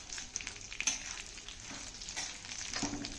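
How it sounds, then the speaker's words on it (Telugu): Pumpkin seeds frying on low flame in a cast iron pan, a soft close crackle with scattered light pops and a few faint stirring scrapes. "పంప్కిన్ సీడ్స్ ఇవి ఫస్ట్ ఫ్రై చేసుకోవాలి."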